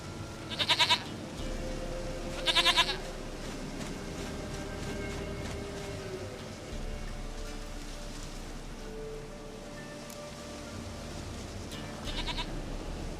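Short, sharp goat bleats in The Witcher 3 video game, two close together early and another near the end, over a quiet bed of rain and ambient sound without speech.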